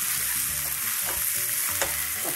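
Tomatoes fry in a pan with dried Sukat fish, giving a loud, continuous close sizzle with scraping stirring strokes over it and no talking.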